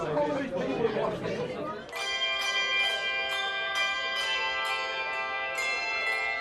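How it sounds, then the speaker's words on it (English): Handbell ringers play a bright, sustained run of bell tones at a railway station on the North Yorkshire Moors at Christmas, the chiming starting after crowd chatter and ringing steadily with overlapping struck notes. "The handbell ringers of Levisham and Lockton, better known as L's Bells."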